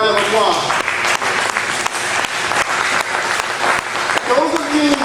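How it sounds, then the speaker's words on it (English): Audience applause at an event on the African origins of Islam, a loud sustained round of clapping filling the room, with some speech mixed in. "our brother Chaka, so give him a quick round of applause"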